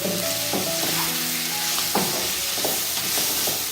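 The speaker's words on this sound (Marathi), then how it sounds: "आता हे सर्व मी व्यवस्थित परत एकदा हलवून घेते" Red masala mixture fries and sizzles in a pan while a spoon stirs it, steady hiss with several scraping strokes against the pan close by, no voices.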